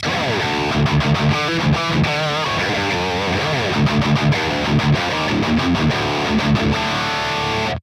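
Heavily distorted electric guitar through a Neural DSP Quad Cortex amp capture plays loud, continuous riffs, mixing chords and single notes with short rhythmic stops.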